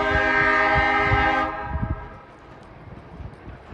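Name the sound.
freight train with GE and EMD locomotives, horn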